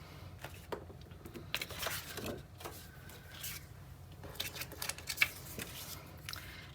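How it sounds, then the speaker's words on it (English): The green blade of a circle cutter runs along the inside track to cut a paper circle, making soft, faint scraping and crackling close by with small irregular bursts. "I'm just going to cut a circle with the green blade on the inside track"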